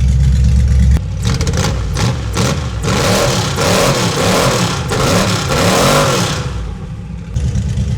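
A freshly built 350 engine running on a dyno, revving hard in repeated surging pulls, loud and close, with a low rumble at the start and a drop back toward idle at the end.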